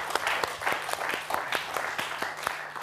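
A television game-show studio audience applauds, with rhythmic, fairly faint clapping that pulses in regular beats and is heard from a distance, accompanied by a low steady hum.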